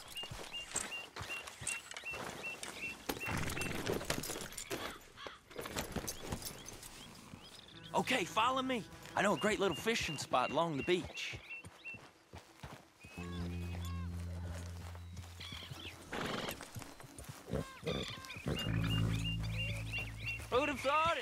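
Horses in the video game Red Dead Redemption 2 clip-clop along at a walk and then a trot toward a beach, steady hoofbeats under in-game dialogue and background music.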